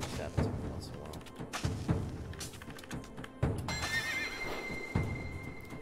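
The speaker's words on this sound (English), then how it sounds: "Like those horses walking in the background." Horses in a video game's Arabian Knights level, with neighs and hoof clip-clops among thumps and game sounds, and a voice talking over them.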